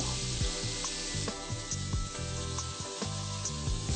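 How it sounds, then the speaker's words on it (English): Bacon strips sizzling on a hot griddle, a steady close crackling hiss with scattered pops and light scraping throughout. "Lay your bacon on the hot griddle and let it sizzle."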